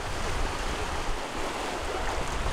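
Wind and waves rush steadily past a sailing yacht racing off Amalfi under its big sail with the engines off, giving a continuous broadband wash of water and wind buffeting close to the microphone.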